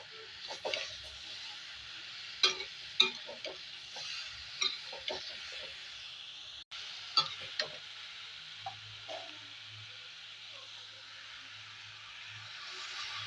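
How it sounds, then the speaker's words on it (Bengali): Mixed vegetables and onion stalks fry in a pan, with a steady soft sizzle broken by scattered scraping stir strokes. "এই সবজিগুলো ভাজা ভাজা হতেই এবার এর মধ্যে দিয়ে দিচ্ছি আমি পেঁয়াজ কলি"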